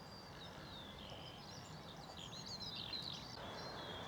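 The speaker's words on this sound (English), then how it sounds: "Skylarks love this kind of field. Hear them singing at the moment." Faint, high chirping skylark song twitters in the distance over a soft breezy field background.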